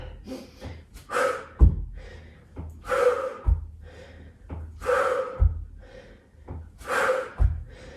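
Forceful, noisy exhales from a person doing kicks in a yoga HIIT leg workout, close and breathy, arriving in a regular rhythm about once every two seconds with sharp snort-like onsets.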